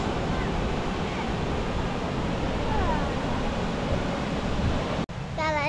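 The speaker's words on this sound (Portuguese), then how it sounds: "cachoeira, você vê como que é forte?" Waterfall at Cachoeira do Salto municipal park in Extrema, Minas Gerais, a loud steady roar of rushing water filling the whole clip, cut by a brief drop near the end.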